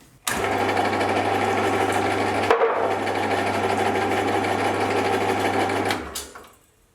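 The motor of a Hafco AL250G metal lathe starts and runs with a steady, loud hum and whine, a brief bump partway through, then spins down and stops.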